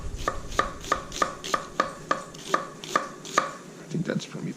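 A knife chops red onion on a cutting board in about ten crisp, evenly spaced close strokes, then a few softer scraping sounds, with no talk.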